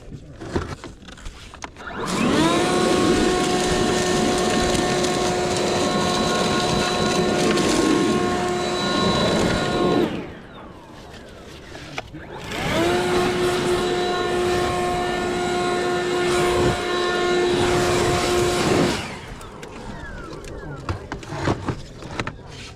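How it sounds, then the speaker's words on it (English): A blower clears a copper gutter on a slate roof, running in two long, loud, steady bursts with a clear droning whine, separated by a short quieter pause. "I'm gonna use the blower"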